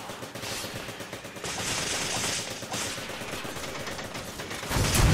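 Rapid gunfire in Resident Evil 5 Versus mode, a dense, sustained rattle of shots pressing close, with louder bursts swelling near the middle and a heavy blast at the very end.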